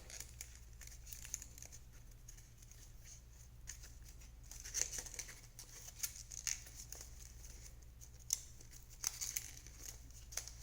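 Origami paper folded by hand for a ninja star unit, faint crisp crinkles and creasing rustles scattered over a low steady hum, close but quiet, with no talk.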